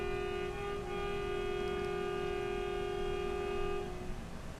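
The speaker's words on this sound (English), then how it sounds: "That's the train horn" A train horn sounds as one long, steady multi-tone blast, loud and sustained for several seconds before fading slightly, with no voices over it.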